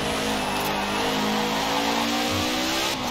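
A Maserati with its original engine revving in the racing game Forza Horizon 4, a loud continuous engine drone holding steady across the moment, with no talking.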